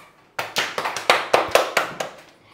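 Children in a classroom clap for a classmate, about ten quick, sharp claps in a short even burst, close and loud, then the sound stops.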